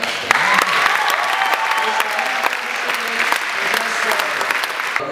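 An audience at a televised talent show claps steadily in a warm round of applause, with faint voices and scattered cheers mixed in under the continuous clapping.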